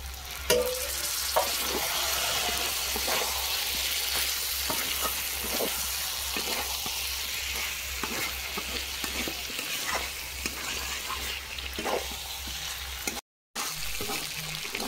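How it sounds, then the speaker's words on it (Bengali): Potatoes, spices and soybean chunks sauté in a pan for soybean kalia, a dense continuous sizzle close up with regular scraping strokes of a spatula throughout; no talking. "আলু সব রকম মশলা আর সয়াবিন কষানো হয়ে গেছে"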